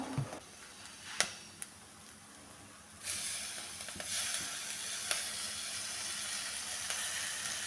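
Chopped raw mango drops into hot ground coconut paste in a pan for a Kerala pacha manga thoran, bringing a sudden burst of steady sizzling and hissing after a few sharp clinks, sustained and fairly close.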